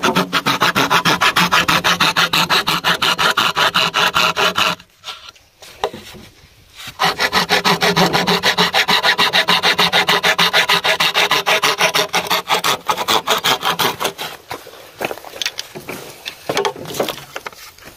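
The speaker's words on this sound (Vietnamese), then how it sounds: "Em ấy thì đang dùng một cái lưỡi cưa rất là nhỏ để cắt." A small saw rasps steadily through bamboo in long continuous strokes, close by, pausing briefly midway before resuming, then growing more intermittent.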